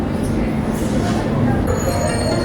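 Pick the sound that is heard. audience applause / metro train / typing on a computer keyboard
metro train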